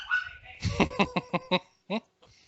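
A dog barks in a quick run of five or six sharp, close barks, followed after a short pause by one more bark, with a voice talking faintly beforehand.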